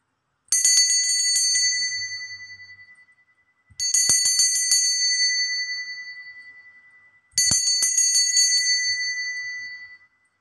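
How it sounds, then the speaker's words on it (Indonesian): A bright bell rings three times at even intervals, each strike clear and sustained before fading, with nothing else in the background. "ditandai lonceng berbunyi"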